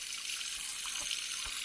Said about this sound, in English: So what I'm doing is I'm filling the sink up